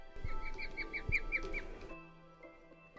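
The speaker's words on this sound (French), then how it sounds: "Ça fait rire les oiseaux." Birds call in a horror-modded Minecraft world: a quick run of about eight sharp, chirping calls over a low rumble, then the calls stop and a quieter droning tone takes over.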